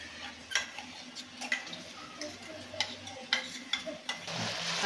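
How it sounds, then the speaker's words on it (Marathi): Ground masala paste is stirred into vegetables for Gujarati undhiyu, with a spoon scraping and knocking against the pot in irregular close strokes over a faint sizzle. "आता हे आपण जे वाटण केलं आहे ते या भाज्यांमध्ये आता मिक्स करून"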